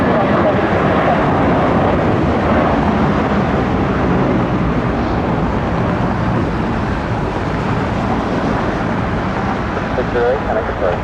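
A Delta airliner takes off from runway 3 left at Detroit Metropolitan Airport, its engines a loud, sustained broadband roar heard steadily from a distance for the whole stretch.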